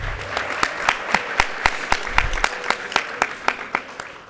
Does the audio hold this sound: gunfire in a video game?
no